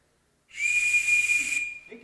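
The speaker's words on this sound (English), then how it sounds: "Then we made our home-blown whistles" A homemade reed whistle from the 1930s gives one steady, shrill, piercing tone lasting about a second, loud and close, ending with a faint breathy trail.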